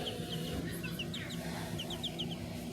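Small bantam chickens cluck and chirp softly nearby in short scattered calls over a low, steady background hum.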